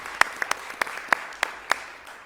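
Small scattered hand claps greeting Moody missionaries at a Valdosta city council meeting, a handful of sharp, separate claps from a modest crowd that soon trail off.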